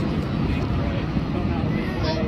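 A StarLux Airbus A350 airliner landing at LAX, a steady broad roar of engine and wind rushing noise, loud and continuous throughout.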